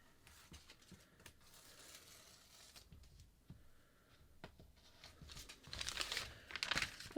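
Scissors snip through a paper bra-cup pattern piece, a series of close, crisp cuts and crinkles that grow louder and denser toward the end.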